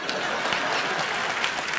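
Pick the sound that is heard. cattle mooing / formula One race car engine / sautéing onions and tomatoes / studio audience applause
studio audience applause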